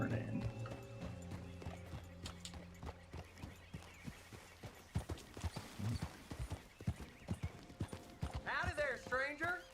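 Horse hooves clip-clop in an uneven rhythm in a video game, with a whinny and game speech over a low hum, the hoofbeats growing louder toward the end.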